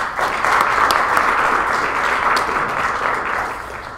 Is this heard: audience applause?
yes